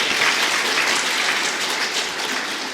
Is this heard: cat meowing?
no